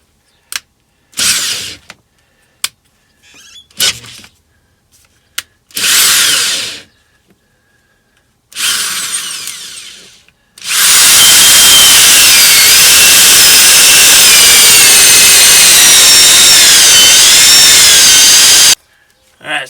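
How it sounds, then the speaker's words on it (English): Several short bursts of a power drill starting and stopping, then one long sustained grinding run as the bit bores through a bus's metal floor, loud and close. "I'm drilling through the metal in the floor"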